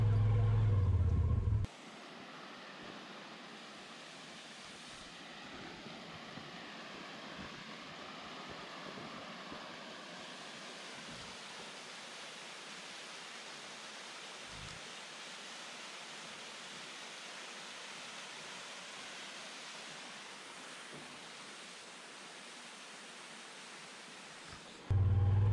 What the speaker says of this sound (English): we came by this and we thought, well, this is the waterfalls